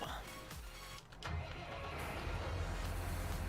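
A tractor engine in the video game Farming Simulator 19 starts up and settles into a low, steady idle hum after a brief mechanical whir, moderately close and alone.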